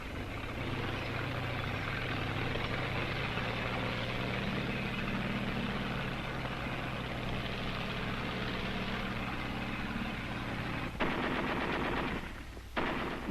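Enemy gunfire in archival Battle of Guam footage, a dense, continuous rattle of machine-gun fire over a rumbling background, fairly distant and muffled, with a short break near the end and no talking.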